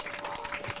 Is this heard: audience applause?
yes